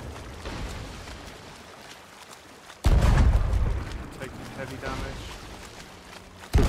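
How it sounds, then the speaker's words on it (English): Ship cannons firing in the pirate video game Sea of Thieves, a heavy booming blast partway through followed by rumbling, then another boom at the end, over continuous game sounds. "they've dropped anchor, they're firing cannons."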